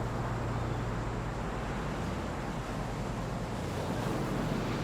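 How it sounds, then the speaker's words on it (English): Ocean surf and waves at sea, a steady, continuous wash with a low rumble and some wind noise throughout, no voices. "Floating out to sea."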